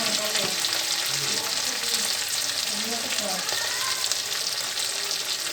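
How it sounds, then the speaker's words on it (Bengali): Chopped fish with salt and turmeric is stirred in a hot pan, giving a loud, steady sizzle with scraping stir sounds mixed through it. "নুন দিলাম হলুদ দিলাম দিয়ে ভালো করে নেড়ে দিলাম"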